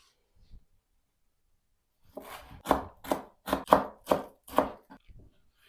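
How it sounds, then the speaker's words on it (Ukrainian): Knife finely chopping a small bunch of dill and green onion on a board, about eight crisp, evenly spaced cuts heard close up with no talk. "наріжу невеликий пучок кропу і цибулі дрібненько"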